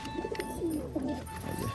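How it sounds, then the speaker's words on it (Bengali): Feather-footed pigeons kept in a loft coo softly and repeatedly, with low throaty warbles close by against faint background noise. "আর এদিকে আরও কিছু পায়রা আছে"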